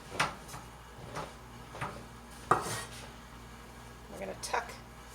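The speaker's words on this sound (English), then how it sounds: "let me get a pan" A baking pan is pulled out and set down in a home kitchen while bread is being made, giving a few scattered metallic clanks and knocks nearby with quiet low voices between them.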